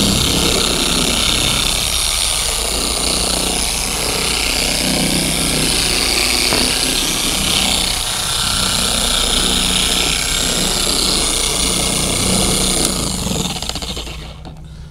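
Car polisher spinning at low speed setting 1 while spreading polish for swirl and scratch removal, a steady loud whirring drone holding throughout before tapering off at the end, no talk.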